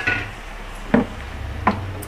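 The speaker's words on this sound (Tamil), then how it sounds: "நம்ம இப்போ வந்து தக்காளியை இது கூட சேர்த்துக்கிடுவோம்." Chopped tomatoes tip into a pan of softened, sautéing onions for tomato rice. Two distinct soft clunks against the pan stand out over a quiet, steady background.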